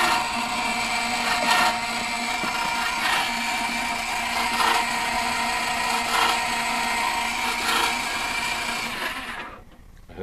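A Richmond Cedar Works electric ice cream freezer runs with a steady, close motor whir and faint rhythmic pulsing, then winds down near the end.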